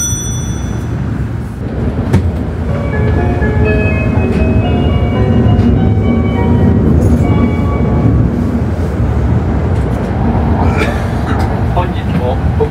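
A Hokuriku Shinkansen bullet train bound for Kanazawa rides along with a steady low rumble and rolling noise, while a voice speaks over the hum and brief tonal chimes come through.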